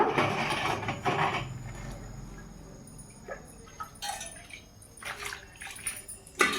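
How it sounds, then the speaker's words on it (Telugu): Faint splashing and sloshing of water in short bursts as silver items are rinsed, with occasional light clinks of the silver, fairly quiet and close. "వాటర్లో ఇట్లా మంచినీళ్ళతో ఇట్లా కడిగేసేసి"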